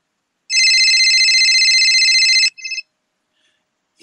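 A telephone ringtone plays loud and close, one long electronic ring of about two seconds followed by a short second burst, with no voices over it.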